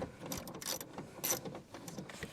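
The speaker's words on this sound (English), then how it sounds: "And now we just remove the 3 screws holding it in place." Screws being backed out of a car door speaker mount on a MINI JCW, with small metallic ratcheting and clicking taps in short bursts, close and fairly quiet.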